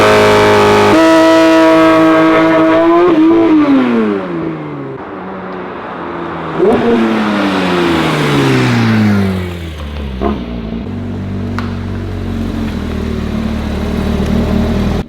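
A loud 2024 Porsche GT3 RS engine revs hard during a launch, pitch climbing through several gears with sharp shifts and crackles, then settles to a lower rumble as the car moves away.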